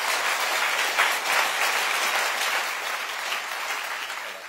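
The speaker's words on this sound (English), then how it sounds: "give our panelists a big applause." Warm audience applause for panelists at a climate breakfast event in Oslo, a steady wash of many hands clapping that swells slightly then eases toward the end.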